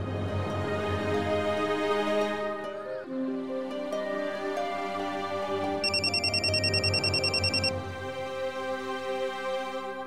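A phone rings with a repeating electronic trill partway through, over steady background music.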